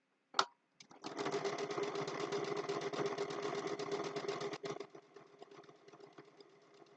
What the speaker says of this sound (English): I want to stitch on either side of that line that I just stitched